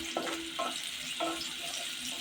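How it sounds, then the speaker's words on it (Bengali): Garlic and green chili paste frying in a pan for a simple Bengali dinner, a steady close sizzle with a few brief stirring scrapes and splashes, no voices. "দিয়ে দিলাম রসুন, কাঁচামরিচ, পেস্টটা ভেজে নিই"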